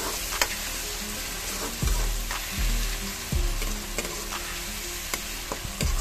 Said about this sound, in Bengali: এখন পেঁয়াজ দিয়া দিলাম। লবণ দিতেছি পেঁয়াজের সাথে। লবণ দিয়া পেঁয়াজ কষাইনি।